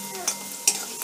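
Softened onions cooking in a pan for a cashew mushroom masala, with a steady low sizzle and two sharp scrapes of a spoon stirring them, close by and without voices.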